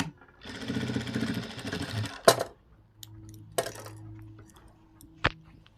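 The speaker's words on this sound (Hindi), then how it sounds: "ये वाला मार्जिन को हम इस तरीके से अंदर की तरफ फोल्ड कर कर एक सिलाई लगा देंगे" Sewing machine stitching a folded blouse margin, a close, steady motor whir with rapid needle chatter for about two seconds, then metallic clicks and a low hum as it idles.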